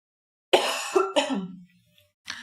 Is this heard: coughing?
yes